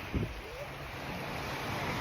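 Sea waves wash onto the beach at Ravda on Bulgaria's Black Sea coast, a steady broad surf roar mixed with wind buffeting the microphone, with a brief low thump near the start.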